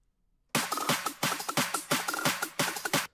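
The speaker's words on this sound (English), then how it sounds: "this one's more of like a clap build up kind of loop" A clap build-up loop for a future bass remix comes in suddenly after a short silence, with dense, bright clap hits in a quick repeating pattern, loud and upfront.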